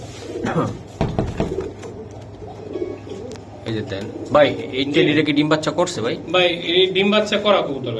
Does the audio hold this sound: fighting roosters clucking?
no